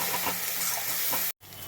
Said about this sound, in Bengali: মশলাটা দিয়ে এবার আমি এটাকে ভালো করে কষিয়ে নেব।